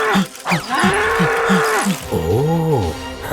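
A voice mimics bulls bellowing in a cartoon: a rapid string of short, gruff grunts, then a long, loud, rising-and-falling moo close to the listener.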